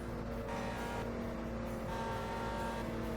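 A race car engine in the Indianapolis 500 Evolution video game, at the 1965 Langhorne 100, drones loudly and continuously as another car closes in from behind, a dense steady roar with no talk.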